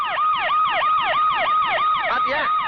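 A police siren wails in a fast, repeating rise-and-fall pattern, loud and close, running continuously without pause.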